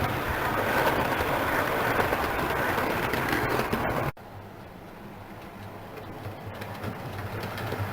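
A model Black 5 steam locomotive on a loft layout rumbles past hauling two wagons, a close, continuous rattling run that drops suddenly to a quieter, more distant rolling hum partway through.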